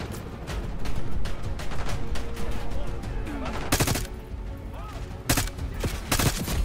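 Call of Duty: Black Ops 6 campaign gunfire: sustained rattling automatic fire through most of the stretch, punctuated by a few louder close bursts, with brief speech mixed in.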